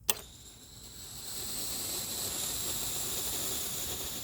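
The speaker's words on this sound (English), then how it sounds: "See how big steam it creates?" An InstantVap Turbo 18 oxalic acid vaporizer clicks once, then releases a rising, steady hiss of steam that carries on loudly, with no speech.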